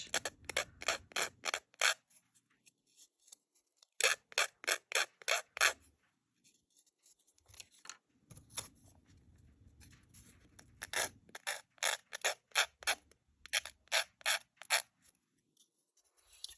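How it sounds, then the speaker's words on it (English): Sanding a miniature craft piece for a noodle shop model, heard as rapid rhythmic scratchy rubbing strokes in close bursts with short pauses between them, no talk. "I'm just gonna sand a little bit to make it smoother."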